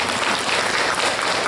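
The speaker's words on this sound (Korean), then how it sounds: "다시 한번 환영의 박수 부탁드리겠습니다" A room of parents at a school gathering claps in welcome for a newly arrived teacher, dense, loud and continuous, close and filling the whole short stretch with no voices over it.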